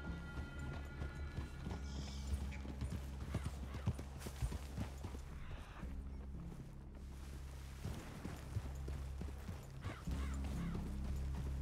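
Horses' hooves clip-clop steadily in Red Dead Redemption 2, a continuous trotting rhythm close by with faint creaks and occasional snorts over a low ambient bed.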